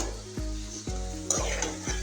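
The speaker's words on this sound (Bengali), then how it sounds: "তো মাছগুলো দিয়ে এখন মশলার সাথে ভালো করে নেড়ে চেড়ে মিশিয়ে দিচ্ছি।" Fried fish is stirred into a sizzling spice paste, a faint hiss of frying with soft stirring scrapes, heard over quiet background music.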